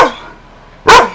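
A dog gives one loud, close, sharp bark near the end, after a soft whine or yip at the start.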